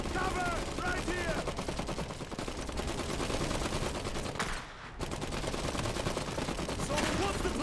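Dense, continuous automatic gunfire and rattling shots from an Iron Harvest battle, a loud busy volley of rapid reports that briefly dips around the middle before resuming, with faint voices mixed underneath.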